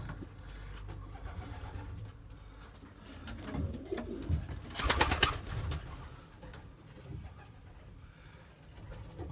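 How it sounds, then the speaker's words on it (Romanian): Racing pigeons cooing in a breeding loft, soft overlapping coos and rustling with a louder burst of wing flapping midway, faint engine noise in the background. "vreau să vă prezint porumbeii mei din compartimentul de reproducție"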